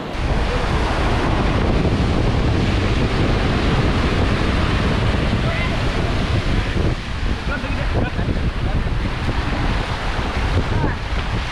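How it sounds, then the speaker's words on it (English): Strong wind buffets the microphone while waves slap and surge around a small fishing boat out at sea, a dense, loud, continuous roar with no break from start to finish. "It's windy today."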